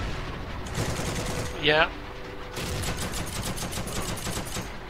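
Gunfire crackles through a World War II shooter game as rapid bursts of shots repeat steadily in the background. Someone speaks briefly over the shooting.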